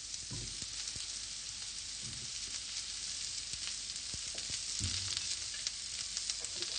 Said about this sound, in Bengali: এবারে আমি এর মধ্যে লাউটা দিয়ে দিচ্ছি